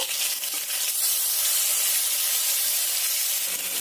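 Fish sizzles steadily in hot mustard oil in a pan after being turned, a loud, continuous hiss with no pauses.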